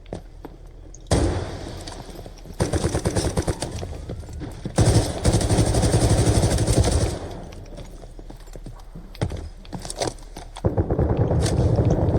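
Loud bursts of rapid automatic video-game gunfire come in several volleys separated by short pauses, close and punchy, heard through a gaming headset.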